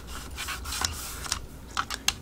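Paper glue flap being folded and pressed on a 6x6x6 handmade mini journal, a soft close rubbing and creasing rasp with a few sharper crinkly ticks, fairly quiet and without talk.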